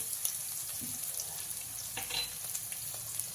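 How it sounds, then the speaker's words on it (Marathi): Boiled potatoes and green chillies sauté in a pan for sabudana khichdi, giving a quiet steady sizzle with occasional stirring scrapes and clicks, close and alone. "हे पण चांगलं परतून घेऊया बटाटा मिरची आपले चांगले परतून झालेले आहेत"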